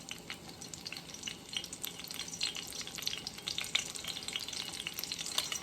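Shrimp and beef egg foo young batter frying in hot grease in a pan, giving a steady, close crackling sizzle with dense popping throughout, no voices.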